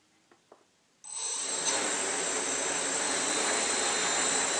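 A homemade quadcopter's motors spin up abruptly after a second of near silence, settling into a steady, loud, high whirring hiss that holds to the end, with two faint clicks before it.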